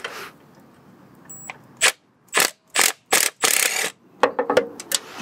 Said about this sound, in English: I'm coming in with an impact wrench with a few extensions, wobbly socket and an 8mm as well